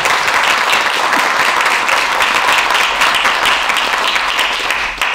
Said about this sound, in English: Can we pause for a round of applause?